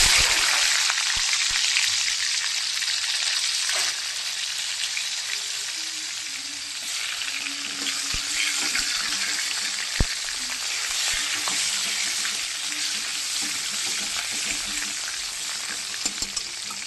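Tomato frying in a pan gives a steady, loud, close sizzle that runs throughout, with occasional stirring clinks and small pops.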